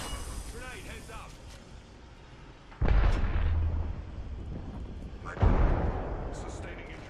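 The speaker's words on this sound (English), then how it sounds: "Grenade, heads up!" Two loud, close grenade blasts in the battle royale game Apex Legends, one at about three seconds and one near five and a half, each a sharp boom with a rumbling tail, over a busy background of in-game noise.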